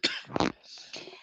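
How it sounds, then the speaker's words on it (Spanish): A woman's cough during a finance lecture, two or three short harsh bursts close to the microphone, with a brief pause between them and no speech. "no sé qué hacer con esta tos"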